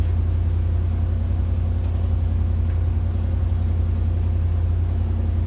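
A Pontiac V8 engine holds a high idle with a loud, steady low rumble and even pulsing throb, close by and unbroken throughout.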